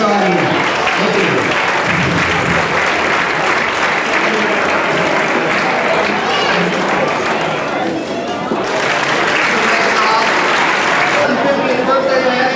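A large crowd at the 1995 Iowa 150th birthday celebration gives a long, loud round of applause, dense and continuous with cheering voices and crowd chatter mixed in, dipping briefly before swelling again.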